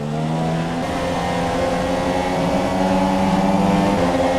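F1 race cars in the video game F1 2017 scream around the track in Melbourne, a loud continuous engine drone with shifting pitch as several cars run close together.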